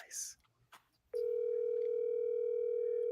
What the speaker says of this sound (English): Let's see if everybody can hear the ring.